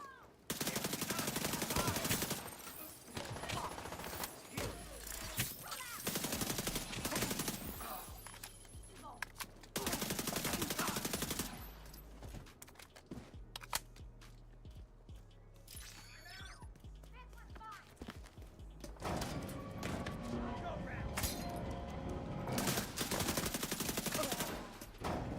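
Bursts of gunfire in The Division 2, loud clusters of shots broken by quieter gaps, with someone talking over parts of the exchange.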